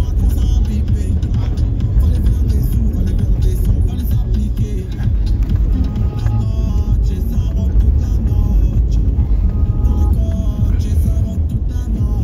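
A car struggles through deep sand in the Bahr el Gazal region, its engine droning loudly and continuously with rough revving, while people talk nearby throughout.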